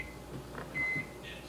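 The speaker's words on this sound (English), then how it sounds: "Stop beeping, microwave!" Microwave oven beeping faintly indoors, a single short electronic tone over quiet room hum.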